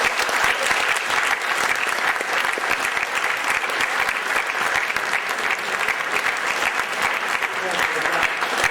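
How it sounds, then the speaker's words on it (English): Sustained audience applause at a pirate radio farewell gathering in Harwich, dense steady clapping from a sizeable crowd, even in level and moderately loud throughout. "So let's give them a big round of applause,"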